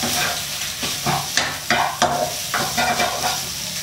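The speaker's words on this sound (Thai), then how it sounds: "แล้วก็มาผัดกับหมูนะครับ" Pork stir-fried in a hot pan for pad see ew, with continuous sizzling broken by repeated scraping and tossing strokes of the spatula, loud and close throughout.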